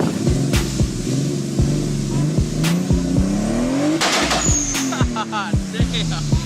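A car engine revs loudly and close by, rising and falling through several throttle blips with sharp rhythmic pops, a steady low idle beneath and a brief squeal near the middle.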